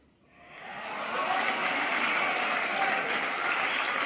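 A cricket crowd at a 50-over match in its final overs cheers and applauds. The noise swells from near quiet within the first second into a broad, sustained roar of clapping and cheering.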